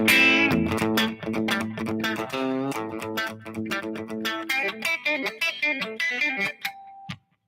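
Electric guitar riff played slowly with heavy distortion, sustained chords and quick picked notes ringing out loud and alone, ending on a single held note before cutting to silence.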